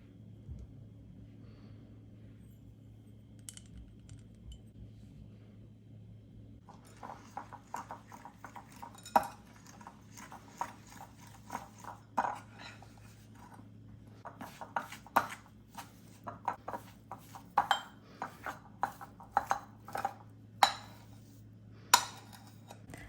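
Mixing protein powder, almond flour, erythritol, baking powder and stevia in a bowl, with quiet scraping that becomes a run of sharp, irregular clicks and knocks over a steady low background hum.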